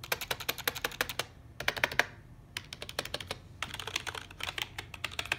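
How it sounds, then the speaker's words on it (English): Keys clattering on a KLIM Lightning computer keyboard, a fast run of crisp clicks near the microphone in bursts with brief pauses between, and no talking. "This is the enter key."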